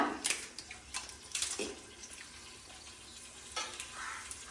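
Masala frying in ghee in a home kitchen pan, a soft steady sizzle with occasional scraping stirs and crackles, fairly quiet and close.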